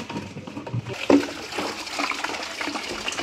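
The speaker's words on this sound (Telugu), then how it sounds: "ఇప్పుడైతే వాటర్ పోసి కడుగుతున్నాను." Water poured into an empty cooking-oil can to rinse out the greasy residue, a steady splashing trickle with a brief louder splash near the middle.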